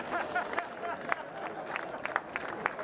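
A school rugby team claps for the opposing under-15 players at a cup final, scattered light applause and crowd chatter at a distance, fairly faint.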